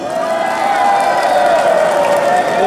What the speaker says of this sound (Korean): 저 멀리 해외에서 오신 영덕구 박수 한번 주세요.